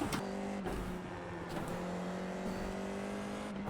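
A Formula 4 open-wheel race car in iRacing drones steadily at high revs, its engine pitch holding level with brief dips at gear changes, recorded close and alone without talk.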